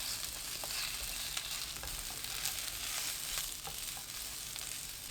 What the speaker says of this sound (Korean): 1분 후 어묵 넣고 센 불로 1분 더 볶아줍니다